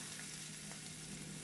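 Fish pieces shallow-fry in a pan of oil, giving a soft, continuous sizzle that stays faint and even for a moment.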